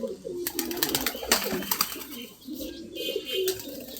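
Pigeons, plain and crested, at close range: soft throaty cooing mixed with bursts of wing flapping and fluttering that come in quick clusters, with faint background noise.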